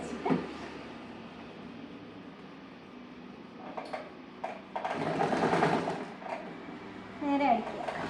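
A sewing machine runs in short bursts while a kurti slit is stitched, its mechanical whir broken by pauses and handling noises, with someone talking over it.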